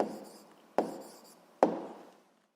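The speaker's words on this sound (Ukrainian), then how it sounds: "Записуємо відповідь." A pen writes down an answer to a physics exercise in three short, close scratching strokes, each starting sharply and trailing off, in an otherwise quiet room.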